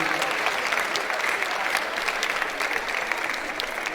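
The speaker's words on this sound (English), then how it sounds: "Sincerely, if you don't clap for yourself," Fresh university students at an orientation programme applaud themselves in a steady, dense wash of clapping that holds evenly throughout, moderately distant in a large hall.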